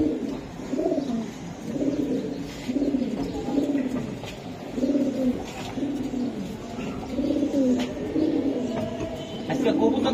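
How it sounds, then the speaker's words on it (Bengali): Army-line pigeons cooing close by, deep throaty rolling coos repeating in steady rhythmic phrases, with faint background noise and occasional distant voices. "এটা আর্মি কবুতর, আর্মি লাইনের আর্মি লাইনের, খুব সুন্দর।"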